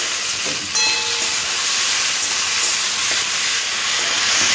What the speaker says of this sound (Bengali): খুব ভালো করে টমেটোটাও আলু পেঁয়াজের সাথে একটু ভেজে নিতে হবে।